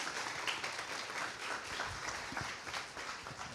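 Conference audience at a game accessibility event in Montréal applauding the speakers, a soft, distant wash of steady clapping that fills the whole moment without clear breaks.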